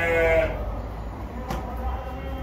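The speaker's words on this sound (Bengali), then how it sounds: "এই দুইটা হচ্ছে দুম্বা।" A fat-tailed dumba sheep at a goat farm gives one short, close bleat at the start, followed by quiet farm ambience.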